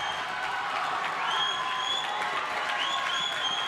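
Madison's home crowd roars behind its Bulldogs during a first-round Region 3A basketball game against Garretson: a loud, continuous wall of cheering, clapping and whoops filling the gym, swelling slightly midway.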